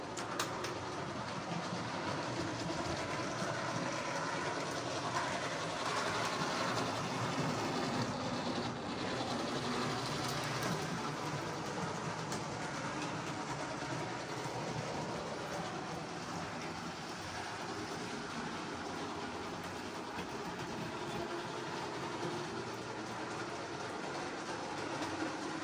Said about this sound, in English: let's sit down and let's watch some trains